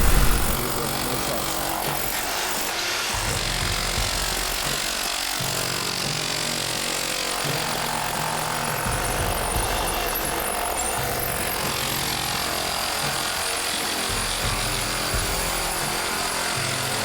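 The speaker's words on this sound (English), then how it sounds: "here is the chipping and the beveling of the crack in the corner of this swimming pool" A power tool chips and bevels a structural crack in the corner of a concrete swimming pool, grinding and hammering continuously with a harsh, loud, uneven chatter throughout.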